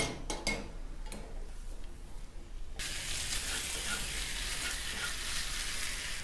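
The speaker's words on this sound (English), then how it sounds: "So I'm going to put the lamb beef in hot oil. I'm going to cook this until it's browned all around." Lamb pieces dropped into hot oil to brown, starting with a few quiet clinks and handling sounds, then bursting into a strong, steady, close sizzle that continues to the end.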